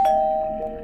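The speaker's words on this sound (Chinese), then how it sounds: "一阵门铃声响起" A doorbell rings once at the door in the evening, a clear sustained electronic ding tone that fades slowly, heard alone and fairly loud.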